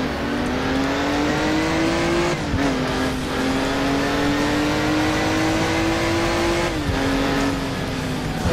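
Car engine droning steadily in the racing game Crash Time 2, loud and close, with the pitch climbing through gear changes and one shift dip midway, no voices.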